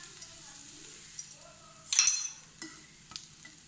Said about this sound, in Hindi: ओकरा घी में दुनू तरफ से सेक लेबाक छै,